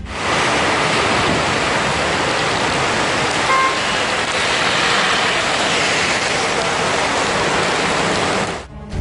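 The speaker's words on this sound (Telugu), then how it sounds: "జంట నగరాల్లో అన్ని ప్రాంతాల్లోనూ వర్షం ముంచెత్తింది." Heavy rain pouring down in Hyderabad with flood water on the streets, a dense, loud, unbroken roar of rainfall and rushing water that holds steady for the whole stretch.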